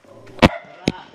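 A dog barks twice at a rural home, two sharp loud barks roughly half a second apart over a quiet background.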